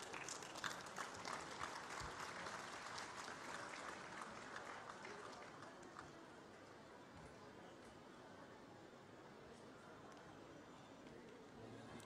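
An audience at a government event in Dehradun, Uttarakhand, claps in sustained, dense applause, loudest at the start and easing slightly midway, continuing unbroken throughout.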